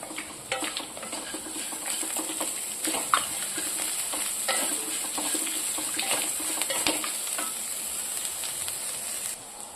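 Asafoetida and spices fry in a pan for lemon rice, giving a steady bright sizzle with scattered scrapes and stirring clicks of a utensil against the pan, fairly close and even throughout.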